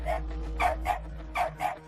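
An excited dog named Stella lets out five sharp, close barks in an uneven rhythm over a low steady hum.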